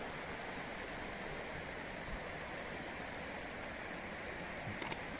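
Steady broadband rush of a flowing stream beside a bank with sensitive plants, continuous and close, with a couple of tiny clicks near the end.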